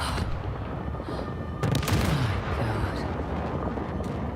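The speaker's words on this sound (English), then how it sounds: "this scene of this town that is just getting bombed and destroyed" Town under bombardment in the video game Uncharted: The Lost Legacy, a continuous rumbling wash of distant explosions and gunfire with a heavier burst of blasts midway, steady and dense throughout.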